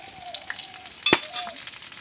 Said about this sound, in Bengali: আমি এখন দেব কাঁচা লঙ্কা, পাঁচফোড়ন আরও তেজপাতা, এগুলো একসাথে দিয়ে দিলাম।